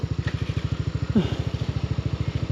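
A motorcycle engine idles with a steady, rapid low thump on muddy ground during a solo moto-camping ride along a river, loud and close with a brief clatter midway and no talk.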